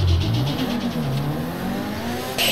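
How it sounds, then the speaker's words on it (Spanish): A Mitsubishi Evo's exhaust revving loudly up close in the video game GTA V, the pitch dipping and climbing in a continuous exhaust drone, with a brief sharp burst near the end. "os dejo un poco con el sonido del Evo intentando saltar las alarmas de los coches en GTA V"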